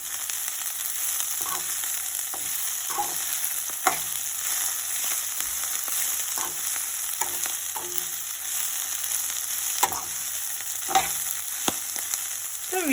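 Kale and fresh coriander frying together in a pan for chutney, a constant soft sizzle with occasional sharp clicks and scrapes of stirring spaced every second or two, close and unaccompanied by speech.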